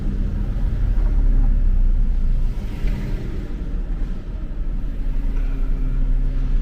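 A truck on a city street in Philadelphia with its engine rumbling low and loud nearby, a steady heavy drone that swells and eases slightly as traffic moves.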